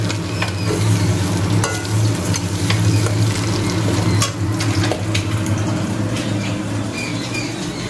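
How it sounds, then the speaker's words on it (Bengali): Fish and moong dal frying in pans during cooking for a home birthday celebration: a loud, continuous sizzle with stirring scrapes and a few sharp clinks, and no voices. "মাছ ভাজা বসানো হয়ে গেছে, আর এখানে মুগ ডাল ভাজা হচ্ছে"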